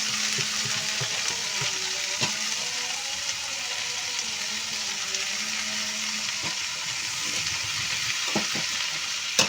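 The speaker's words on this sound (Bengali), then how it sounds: "ওদিকে ইলিশ মাছ ভাজা হচ্ছে" Hilsa fish frying in a pan in a home kitchen gives a steady, dense sizzle throughout, with a few soft clinks of utensils breaking through the crackle.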